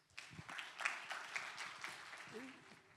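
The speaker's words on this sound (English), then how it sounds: "Big round of applause, please." An audience at an African aviation event claps to welcome a professor to the stage, a moderate burst of applause beneath a speaking voice and fading slightly toward the end.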